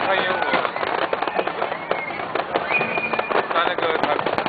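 Fireworks burst during a 2010 National Day display, watched from beneath a bridge: dense, continuous crackling booms and pops fill the air while an excited crowd chatters and calls out nearby.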